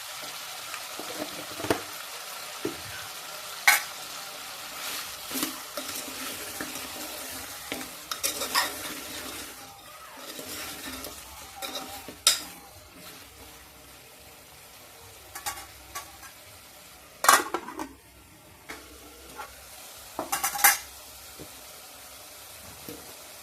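Chicken leg curry simmers in a pot, with soft continuous bubbling and sizzling under scattered scraping and clinking strokes of a spoon stirring against the pot.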